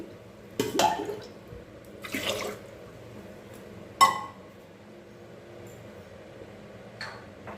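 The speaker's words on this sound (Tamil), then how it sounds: "நாலு கிளாஸ் தண்ணி விட்டு வேக வச்சுக்கலாம்" Water poured from a glass into a cooking pot for making Chennai-style malli pongal in a home kitchen, arriving in a few short splashing bursts with clinks of the glass and a faint dribble near the end.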